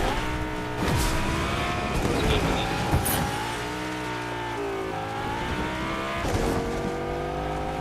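A car drives in Fortnite, its engine droning loudly and steadily with rising and falling pitch and brief tire squeals, up close with no talk over it.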